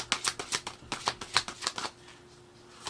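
A deck of tarot cards is shuffled by hand up close, with a quick run of crisp, rhythmic riffling slaps that stops abruptly, followed by near silence.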